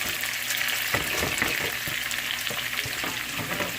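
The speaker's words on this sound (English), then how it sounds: "Okay, the pot is hot. So it's time to add the onions to it." Onions fry in a hot pot for a Guinea shrimp dish, giving a loud, dense, continuous sizzle with intermittent scraping stir strokes close by.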